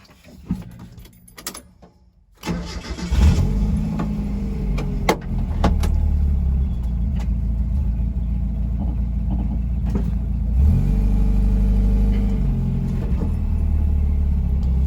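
A 1990 Mazda Miata with freshly replaced brake pads: keys jangle, the engine cranks and catches, then settles into a steady low idle rumble as the car rolls in a driveway, with no talk.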